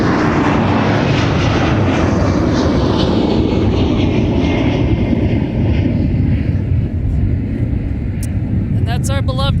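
Northwest red-tail jet airliner taking off from MSP airport, a loud steady engine roar filling the whole stretch with broadband rumble and a high whine, fading slightly toward the end as radio chatter comes in.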